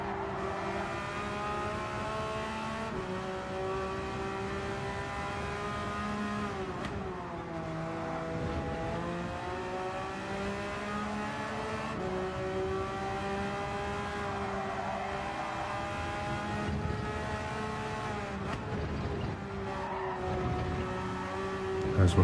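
Race car engine in a racing video game held at high revs, its steady droning pitch rising and falling through gear changes and corners, with occasional tire squeal, continuous and loud for the whole stretch.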